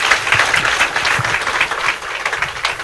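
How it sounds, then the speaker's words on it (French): A crowd at a hospital inauguration ceremony applauds a prime minister with loud, steady, dense clapping that holds without a break. The room stays full of hands throughout, with no voice rising above the noise. "On applaudit très fort le premier chef du gouvernement."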